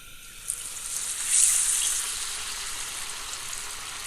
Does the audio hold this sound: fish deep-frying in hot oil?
yes